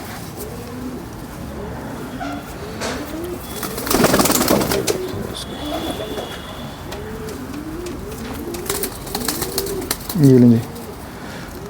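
Pigeons coo softly and repeatedly in a loft, a steady rhythmic murmur of many birds, with someone speaking briefly and some background noise.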